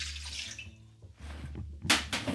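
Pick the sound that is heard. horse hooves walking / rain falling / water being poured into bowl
water being poured into bowl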